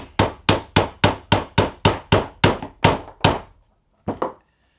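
A hammer drives the magazine dovetail tenon out of a Henry rifle, ten sharp evenly spaced knocks followed after a pause by two quicker final taps, close and with no speech.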